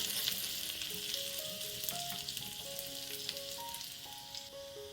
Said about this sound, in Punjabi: ਤੇ ਲਸਣ ਨੂੰ ਆਪਾਂ ਥੋੜਾ ਜਿਹਾ ਭੁੰਨ ਲੈਣਾ